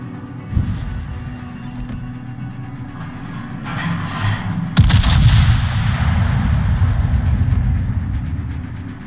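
A heavy warship gun salvo booms in a naval video game, a sharp blast followed by a long rumbling roar that stays loud and close, with earlier muffled thuds and a steady low engine drone underneath.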